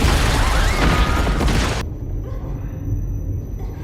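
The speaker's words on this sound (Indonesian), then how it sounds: "bom tersebut meledak." A bomb explodes inside a train carriage: a loud, broad blast that roars for over a second, then cuts sharply to a quieter, ringing aftermath with lingering rumble.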